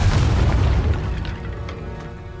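Incendio fire spell cast in the Hogwarts Legacy video game, a loud deep whooshing boom that bursts at once and then rumbles and fades over a couple of seconds.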